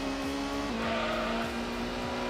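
A race car in Gran Turismo revs and shifts through a corner, its engine tone stepping down as tires squeal and skid, loud and close with no talk.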